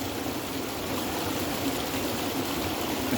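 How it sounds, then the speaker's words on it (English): Water runs steadily into a stainless steel bowl as a razor is rinsed, a continuous close splashing trickle with no talk. "I'll be rinsing my razor in this guy here."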